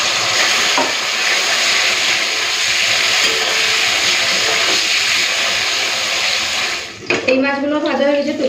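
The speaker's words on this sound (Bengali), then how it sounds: "এই যে বাটা মাছগুলো তেলের মধ্যে দিচ্ছি" Bata fish frying in hot oil in a wok for bata macher jhal, with a loud continuous close sizzle and hiss, stirring noises, and a voice speaking briefly at the end.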